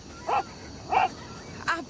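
Three short, evenly spaced dog barks with a whimpering edge, moderately close and fairly quiet against a low background.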